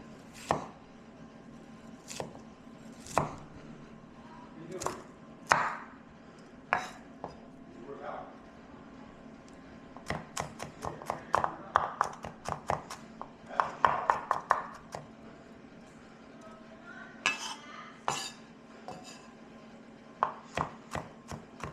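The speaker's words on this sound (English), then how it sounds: "chop it up real small" Cilantro chopped finely with a knife on a board, irregular sharp knocks, some isolated and some in quick bursts, fairly close and quiet, with no voices.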